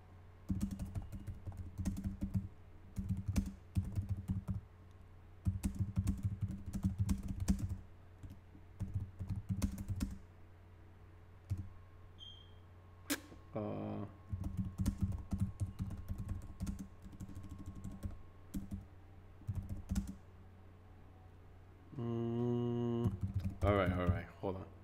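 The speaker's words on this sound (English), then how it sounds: "I'm just typing some quick stuff on Twitter." Someone types quick posts on a computer keyboard during a live gaming stream. The keys clatter in fast bursts separated by short pauses, with occasional talk and a tonal sound near the end.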